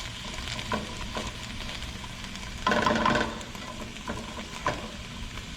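Onion fries in a pan with a steady sizzle, broken by a louder burst of stirring and scraping partway through and a few sharp clicks.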